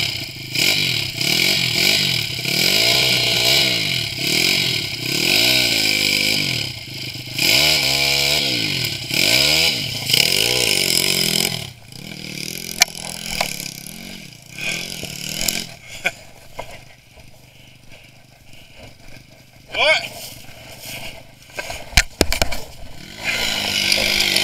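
A motorcycle engine runs up close, revving in rising and falling waves before the bike is put in first gear and pulls away, leaving clatter and scraping sounds as it fades.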